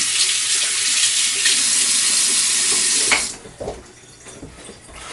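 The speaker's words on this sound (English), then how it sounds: "I'm going to give my hands a quick wash." Tap water runs steadily into a sink as hands are washed, loud and close. The flow shuts off about three seconds in, leaving faint drips and handling sounds.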